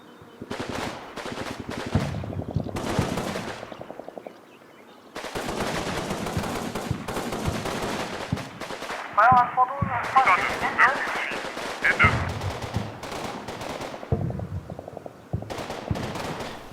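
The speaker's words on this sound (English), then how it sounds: "They begin to take fire." Machine-gun and rifle fire in the World War II tactical game Combat Mission, with repeated rapid bursts and sharp shots through most of the stretch, loud and close, with brief gaps between volleys.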